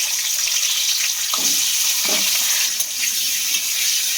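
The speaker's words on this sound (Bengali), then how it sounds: "আলুগুলোকে আমি দিয়ে দেব তেলের মধ্যে।" Diced potatoes frying in hot oil give a steady, fairly loud broadband sizzle with a few brief stirring scrapes, and no one speaks.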